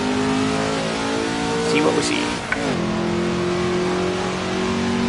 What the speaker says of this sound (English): Already wounded the engine from over revving